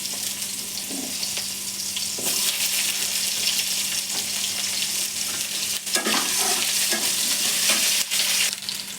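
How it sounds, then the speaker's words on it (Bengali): Onions frying in a pan with steady loud sizzling throughout, broken by repeated scraping stirs and clacks of a utensil, close up with no voices. "আমি পেঁয়াজ ভাজবো"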